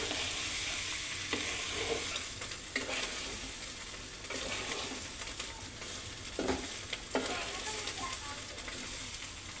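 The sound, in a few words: stirring rice and lentils frying in a pot for khichuri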